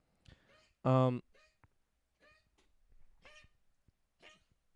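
A dog coughs once, a single short, harsh bark-like cough, with quieter voice-like sounds and faint clicks scattered around it.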